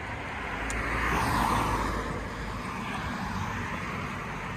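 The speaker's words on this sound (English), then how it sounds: "Ooh, there's a car." A single car passes along Mass Ave at a busy intersection, its tire and engine noise swelling to a peak and then fading over a continuous background traffic hum.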